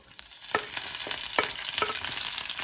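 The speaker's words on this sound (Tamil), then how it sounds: "அது நல்லா கொஞ்சம் நல்லா ரோஸ்ட் ஆகட்டும்" Broken dried red chillies and curry leaves roast in hot oil, a close crackling sizzle that builds and holds, punctuated by several sharp spattering pops and stirring scrapes, with no talk.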